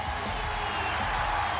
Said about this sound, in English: And the crowd cheers on Johnny Gargano